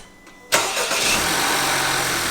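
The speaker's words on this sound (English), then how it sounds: "we're going to fire this thing up for the first time and let the car get warmed up" A Honda Accord fitted with a PRL high volume intake cranks and fires up, a sharp start burst at about half a second settling straight into a loud, steady close-up idle.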